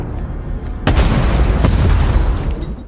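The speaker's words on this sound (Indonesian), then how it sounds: "Dan tak lama kemudian mobil pun meledak dengan sendirinya." A loud, deep explosion bursts in suddenly after a brief quieter rumble, then a sustained roaring blast with crackling debris that slowly fades.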